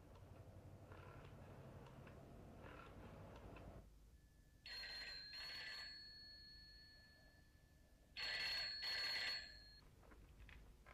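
A telephone rings twice in a quiet indoor room, each ring a bright electronic trill lasting about a second, set apart by a pause, with faint room noise before and between the rings.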